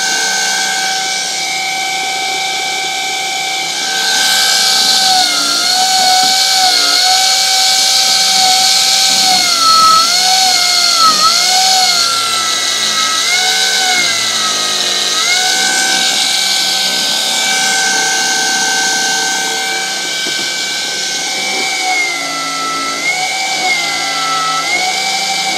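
A standard electric motor run from a split phase converter hums and whines steadily at close range, its tone wavering up and down throughout with little else heard.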